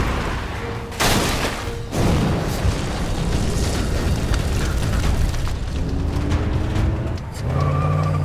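Pipe bomb explosions in a thriller, with a heavy boom, a brief pause, then another blast rolling into a long, loud, sustained rumble with vehicle engine noise.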